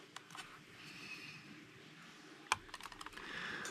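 The clicky tail switches of Acebeam TAC AA flashlights give a scatter of small, close clicks, with one sharp, loud click near the middle and several quieter ones after it.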